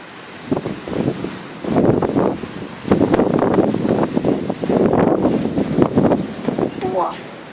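Strong stormy wind during a thunderstorm buffets the microphone in rough, roaring gusts that swell and drop, with a voice briefly audible near the end.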